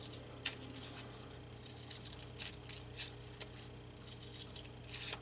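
Scissors snipping paper while making a bird-themed paper collage, with soft irregular crisp cuts and rustles, faint and close, scattered across a quiet room background without talk.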